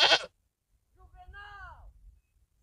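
A male goat bleats once in a wavering, mid-length call, moderately loud over a low rumble of background noise. A short, loud burst, probably a shout, comes just before it.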